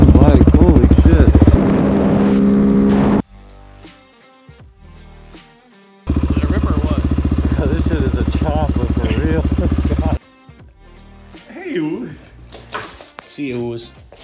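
A motorcycle being ridden roars close and loud in two long bursts of engine noise, separated by quieter idling gaps, with a voice heard during the lulls.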